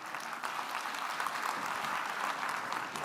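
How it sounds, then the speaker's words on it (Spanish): Steady applause from a conference audience at a health forum, a dense even wash of many hands clapping throughout with no pauses. "Yo agradezco mucho los aplausos"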